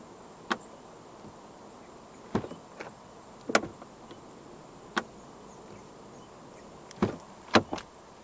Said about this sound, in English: Now, the doors do come with a soft close function.